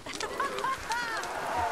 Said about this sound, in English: These goats sound sad.